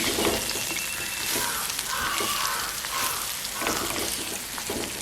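Banana peppers sauté with dried fish (masi) in a pan, giving a loud continuous sizzle and crackle with occasional stirring clatter throughout.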